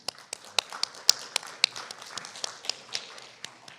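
Applause from a conference audience welcoming a speaker on stage in Seoul, a sparse irregular scatter of individual claps, fairly quiet and fading in and out without voices.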